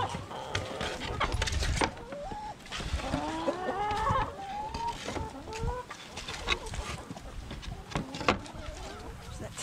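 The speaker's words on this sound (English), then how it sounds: "Happy chickens." A flock of chickens clucking and squawking close by, busy overlapping calls with some background rustle, no talking.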